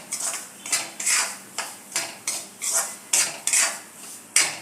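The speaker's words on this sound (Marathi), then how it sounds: "रवा भाजताना एकसारखं हलवत हलवत भाजायचं आहे" Semolina roasting in ghee in a pan is stirred over low heat, with a string of regular scraping strokes against the metal, each a short rasp at a steady unhurried rhythm.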